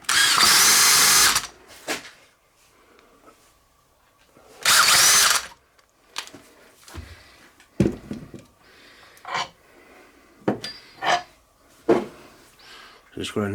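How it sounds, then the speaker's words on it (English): A power drill bores into bronze for a steam engine's main bearings, with two loud whirring bursts followed by shorter, irregular bites and clicks, all close by with quiet gaps in between. "Bronze is strange stuff to drill, very strange."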